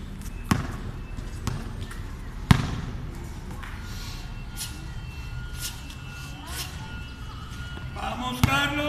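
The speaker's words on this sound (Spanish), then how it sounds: "Denme el balón, por favor." A basketball is bounced on a court before a free throw, giving a few sharp, separate thumps spaced seconds apart over a steady, noisy room background.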